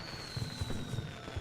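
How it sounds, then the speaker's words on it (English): Video game fireworks effect triggered when a player dies and respawns, heard as a quick series of soft crackling pops with a faint whistle, low in level. "I added a script where I have fireworks when I spawn in."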